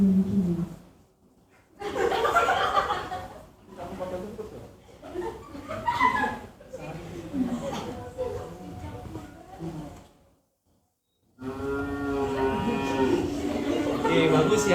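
Cattle on a village farm moo in several long, loud calls close by, separated by short pauses, with people chuckling and talking around them.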